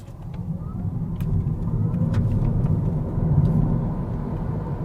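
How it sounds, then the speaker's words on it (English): Peugeot e-208 electric car accelerating in sport mode, a low, steady road and motor rumble building gradually from inside the cabin, with faint ticks over it. "Let's go to the sports mode and see the instant acceleration of this electric vehicle."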